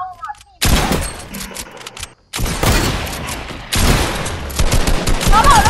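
Bursts of rapid gunfire from a multiplayer shooter game sound loud and close, coming in three dense volleys separated by brief gaps, with no speech over them.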